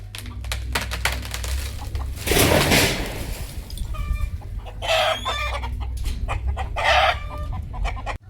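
Village hens clucking and a rooster crowing nearby, with repeated loud calls in bursts over a steady low hum and scattered clucks in between.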